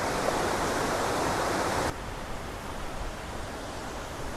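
River water flowing steadily through a series of small pools on its way toward the Connecticut River, a continuous broadband rushing wash that drops slightly in level partway through, with no voices.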